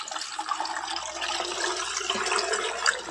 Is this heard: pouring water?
yes